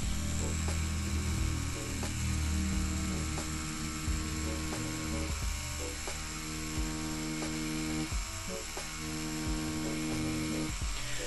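A rotary tattoo machine motor runs steadily through line work, a continuous close electric hum with a faint whirring buzz, shifting slightly in pitch now and then as the machine moves.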